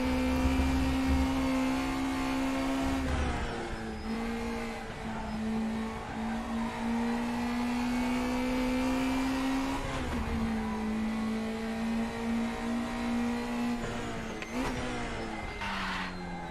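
Race car engine in RaceRoom Racing Experience on the Charade circuit, a steady high-pitched drone that rises and drops with several gear shifts and brief tire squeal, close and continuous with no talk.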